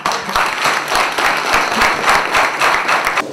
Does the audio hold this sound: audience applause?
yes